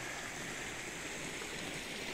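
A river stream flows with a faint, steady rushing hiss, continuous and even throughout, with no other sounds.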